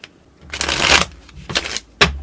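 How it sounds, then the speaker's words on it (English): A tarot card deck is shuffled by hand in three quick riffling bursts, close and crisp, with short pauses between, without talk. "2 more shuffles and let's begin."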